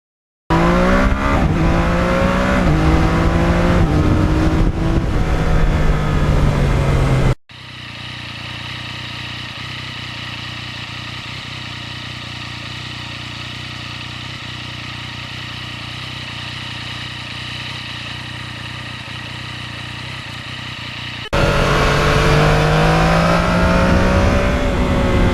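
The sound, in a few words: Yamaha MT-09 motorcycle engine revving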